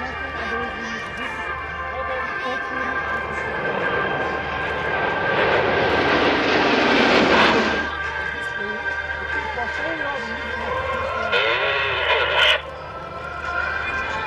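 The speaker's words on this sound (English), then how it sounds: "Et le passage en formation Concorde de la patrouille de France 2012." Patrouille de France jets passing in Concorde formation at the Florennes airshow, 2012: a rushing jet roar swells to a loud peak and fades, followed by a second brief surge, with a commentator's voice over a public-address system throughout.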